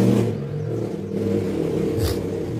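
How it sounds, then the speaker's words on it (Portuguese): A motorcycle passes close by outdoors on a street, its engine rumbling steadily, rising in a brief revving surge near the end. "o barulho da moto"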